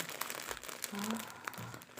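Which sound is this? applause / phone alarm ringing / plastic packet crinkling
plastic packet crinkling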